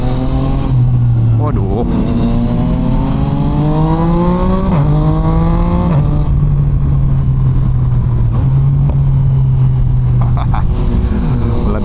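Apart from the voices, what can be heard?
Yamaha MT-09 motorcycle engine revving and exhaust popping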